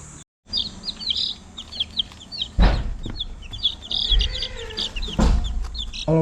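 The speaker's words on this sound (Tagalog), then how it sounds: "nag-out tayo ng mga manok natin" Farm chickens just let out of their coop cluck and chirp busily together, nearby and fairly loud, with a few heavy thumps and rustles mixed in and no one speaking.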